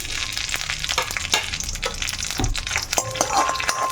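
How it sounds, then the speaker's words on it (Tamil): Dry and green chillies sizzle and crackle steadily in hot oil while being fried for a tomato chutney, with a busy frying hiss and occasional sharper pops and stirring clatter. "கொஞ்சம் நல்லா ஃப்ரை பண்ணிக்கோங்க ஃப்ரெண்ட்ஸ்"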